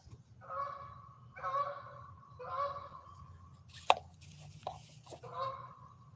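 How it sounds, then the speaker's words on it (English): Geese honk in a series of four evenly spaced, nasal calls at moderate distance, with a sharp knock and a small splash between the last two calls over a low steady background hum. "Beautiful birds, beautiful waterfowl, whatever you want to call them."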